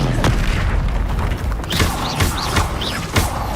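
Spellcasting in Hogwarts Legacy, with the Expelliarmus disarming charm among the casts: deep booms and sharp magical whooshes and zings land in quick succession, some thumping impacts over a rumbling game backdrop.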